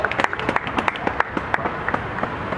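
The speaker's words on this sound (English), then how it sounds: "Come on, some real claps now." Crowd at an outdoor street protest in Montreal breaking into clapping, a loose run of sharp handclaps and cheers from many people at moderate distance, uneven and scattered rather than a steady ovation.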